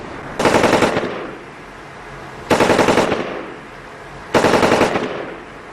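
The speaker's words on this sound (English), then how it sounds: "Using 2 .240 machine guns and a .50 caliber, these soldiers lit up the night with tracer rounds" Bursts of M240 and .50 caliber machine gun fire with tracer rounds at night near the Afghanistan–Pakistan border: three loud, rapid bursts about two seconds apart, with quiet gaps between them and no talking.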